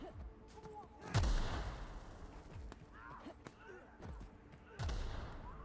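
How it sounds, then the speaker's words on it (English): Gunfire in a chaotic space video game: several loud, sharp shots ring out at intervals, one heavy blast near the start and another near the end, with quieter pops and game effects between them. "I hear gunshots"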